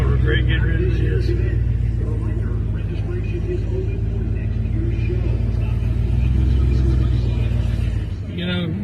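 A Chrysler 880 convertible rolls through a grassy car show field, its engine giving a steady, loud low rumble that holds throughout before easing near the end, with faint voices in the background.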